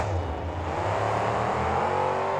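Two monster trucks, Eagle Eye and B4 Brakes Car Parts, launch off the start line in a KORR Monsters racing game final, engines roaring loud and steady with rising revs throughout.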